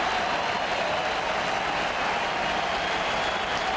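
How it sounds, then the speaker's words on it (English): At Yankee Stadium during a World Series game, a huge crowd rises and cheers, a dense, steady roar of applause and shouting that holds at full strength from start to finish. "Torre sits in the Yankee dugout as the crowd here at Yankee Stadium rises to its feet"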